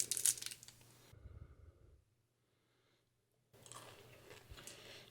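Crinkly tearing of a wrapper on mint gum pieces from a US military MRE, a quick burst of crisp rustles at the start, then faint soft chewing and handling noises before near silence and a low murmur of room sound.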